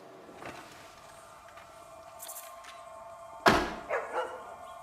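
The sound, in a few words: dog barking in a park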